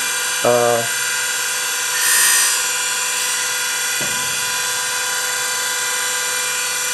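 Lathe taking a cut during a swivel toolholder modification, a steady high machine whine with a brief rising swell in the middle and a short tonal burst near the start.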